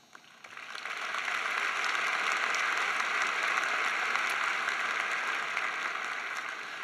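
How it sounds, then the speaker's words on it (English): Applause from a university business school commencement audience swells within the first second into a dense, sustained crowd clapping, holding steady across the hall before easing slightly at the end. "we applaud your success"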